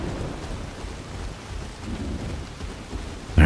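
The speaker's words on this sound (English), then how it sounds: "Dark and raining" Steady rain pours in the Soulmask survival video game at night, a constant hiss with low rumbling thunder beneath it and a sudden louder crack near the end.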